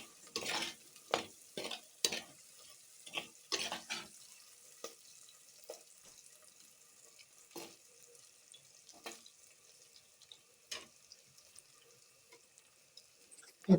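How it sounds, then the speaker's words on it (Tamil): Radish and potato pieces stir-fried in a pan for a tamarind curry, with a series of brisk scraping stirs and clatters over a faint sizzle, close by and alone. "இந்த போட்ட காய்கறி கொஞ்சம் வதங்குற அளவுக்கு நீங்கள் வதக்கி எடுத்துக்கோங்க."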